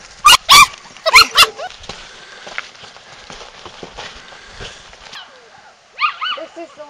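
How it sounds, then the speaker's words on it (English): Several sharp, high yelps and barks from street dogs and puppies up close, then quieter whimpering and whining amid outdoor background noise at a landfill site. "This is our daily trip to feed and check Lily and the puppies."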